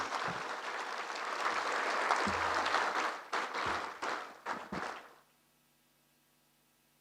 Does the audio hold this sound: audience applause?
yes